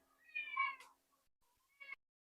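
A cat meows close by, first a long drawn-out call and then, after a short pause, a second brief meow.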